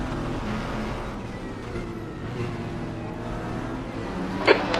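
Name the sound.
Ferrari 296 race car engine in RaceRoom video game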